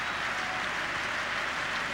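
Football crowd at the Argentina versus Paraguay Olympic gold medal match: a broad, steady roar of cheering spectators, loud and continuous throughout the two seconds with no distinct voices.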